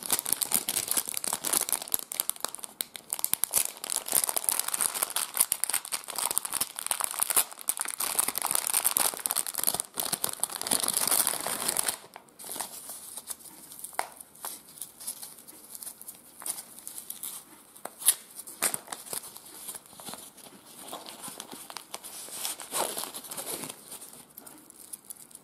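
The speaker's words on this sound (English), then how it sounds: "So here's the plastic bag with the Cadvan watch in it." Thin plastic bag holding a Cadvan HQ-8102 wristwatch crinkles and rustles as it is handled, busy and dense for the first half, then sparser, softer crackles and scattered handling noises close to the microphone, with no talking.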